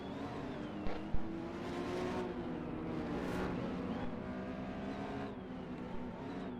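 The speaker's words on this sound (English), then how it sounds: "As we got a couple cars struggling to get up the hill" Race cars climbing a hill at a lakeside castle race produce a continuous, moderately faint engine drone with wavering pitch as they strain, plus a couple of brief knocks early on.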